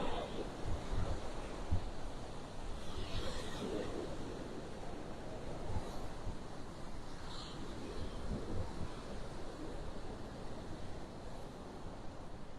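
Ocean waves wash onto a beach in North Naples, Florida, a continuous soft roar of surf with gentle swells and a little wind, heard from nearby with no talking.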